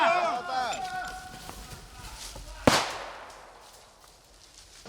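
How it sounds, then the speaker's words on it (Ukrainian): Sharp crack of a gunshot or grenade blast rings out mid-clip during military training, with scattered gunfire pops around it and a voice shouting a grenade warning near the start. "з різних боків лунають постріли та вибухи"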